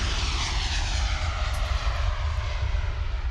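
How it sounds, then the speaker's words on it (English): An airplane passes low near Schiphol Airport's plane spotting area, a loud, close, steady engine roar with broad rushing noise throughout. "the plane spotting area near Schiphol Airport, which is said to be one of the best plane spotting areas in Europe"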